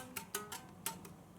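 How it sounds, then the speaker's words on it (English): Fingertips strike guitar strings during slow drone practice, making five or six small, crisp clicks at an uneven pace, quiet and close, with no voice. "this little clicking sound you hear"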